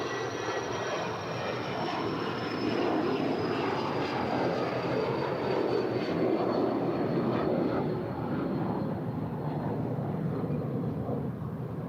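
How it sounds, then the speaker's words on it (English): Boeing 777-200 airliner engines at LAX, a steady broad roar with a faint high whine slowly drifting down, loud and continuous without speech. "27 years old, this 777-200. It's the very first delivered 777"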